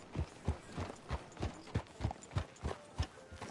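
Horse hooves in Red Dead Redemption 2 clip-clop at an even walking pace, about eleven soft, regular thuds, fairly close, with no talk over them.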